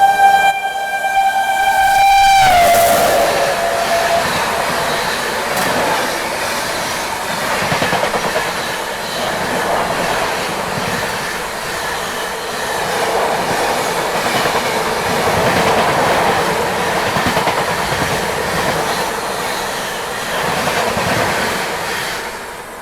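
Pawan Express overtaking the Kushinagar Express on a loop line at a small station: a horn blast opens, then a loud, close rush of the passing train with rhythmic wheel clatter running on steadily.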